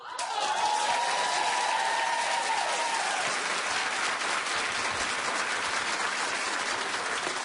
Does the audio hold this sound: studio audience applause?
yes